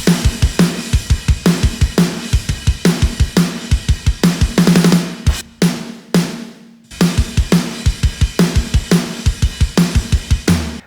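A fat, punchy snare drum sample plays in a steady driving drum pattern with kick hits, close and loud, with a brief drop-out midway before the groove resumes.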